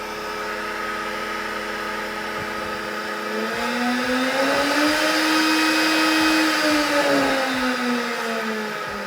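Harvey router table motor spinning up from a low hum into a loud, steady high-pitched whine, pitch rising then settling and dipping slightly, close and continuous with a few faint knocks early on.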